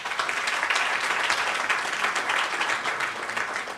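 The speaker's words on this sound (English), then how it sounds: "Please give them a round of applause." A forum audience in Penang applauds ambassadors and representatives of European Union member states with a full round of dense, steady clapping that runs unbroken at moderate loudness.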